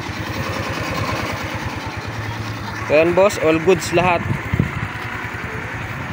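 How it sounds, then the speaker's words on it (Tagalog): A small motorcycle engine idles after a kick start with a steady close putter, briefly revved partway through, while someone talks over it. "So try naman din natin ng kick start."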